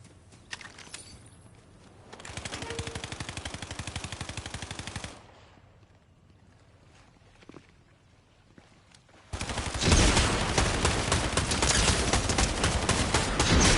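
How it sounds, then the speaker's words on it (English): Automatic gunfire rattles through a Fortnite match, first as a sustained burst of rapid shots, then after a quieter gap a louder, denser stretch of continuous full-auto fire that runs to the end. "I hear full-on auto fire, but I don't know where it's at"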